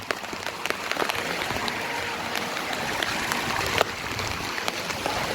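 Heavy monsoon rain pours down in the Girnar hills near Junagadh, a dense, loud, steady hiss with scattered close drops pattering on nearby surfaces.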